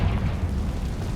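A Confringo spell explosion in Hogwarts Legacy bursts out as a loud, continuous low rumbling boom lasting about a second, heard alone.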